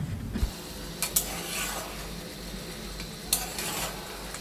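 Meat being stirred in a cooking pan, a soft continuous sizzle with a few sharp clinks and scrapes of the utensil against the pan, no talk.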